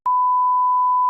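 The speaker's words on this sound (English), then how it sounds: "I'll beep that." Steady single-pitch censor beep, loud and unbroken for about a second, starting and stopping abruptly with no voices.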